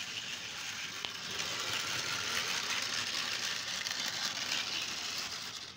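An Aristocraft model train engine that had not run for a long time circles its track, giving a steady, close whirring rattle with a faint ticking undertone. It holds at an even level throughout, with no talking.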